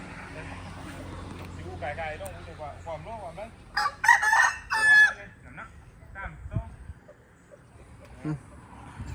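A southern Thai rooster crows with a couple of harmonic bursts near the middle, over a steady background of people talking nearby and some clucking.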